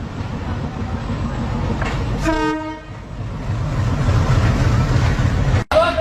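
A train sounds a short, loud horn blast at Parbatipur railway station, rising clearly over the steady rumble of rolling wagons and station noise, followed by a sharp clunk near the end.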